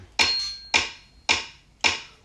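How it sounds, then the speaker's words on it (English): Four crisp, evenly spaced clicks of a metronome, sharp and close, each fading quickly before the next. "Do it with the metronome really quick."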